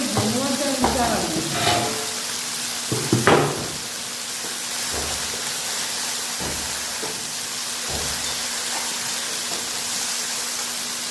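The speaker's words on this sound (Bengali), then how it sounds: "এই দেখো ঝিঙে আলু ভালো ভালো করে মানে পুরো ভাজা ভাজা হয়ে গেছে" Ridge gourd and potato pieces frying in a pan give a steady, moderately loud sizzle with a few scraping stirs and knocks early on, then a continuous hiss with faint periodic thumps.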